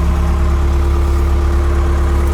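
A Trackless MT5 snowblower engine runs steadily and loud up close, a constant low idling rumble with an even hum and no pauses.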